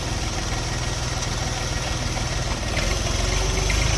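A small three-cylinder diesel engine on a Jinma 244 four-wheel-drive mini tractor idles steadily nearby, a rapid even low chugging with a constant mechanical hum throughout.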